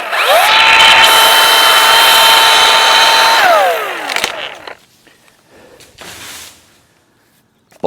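Power saw cutting kerf cuts into a tree trunk during tree climbing work, one loud sustained buzzing whine for about three and a half seconds that winds down, followed by quieter rustling and knocks.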